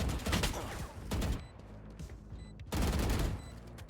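Video game gunfire: rapid bursts of shots in two loud volleys, separated by a quieter gap with faint electronic beeps.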